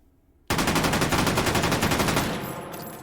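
FAL para rifle in the VR game H3VR firing a rapid fully automatic burst, a dense string of loud close shots that starts abruptly after a brief quiet moment and tails off into echo.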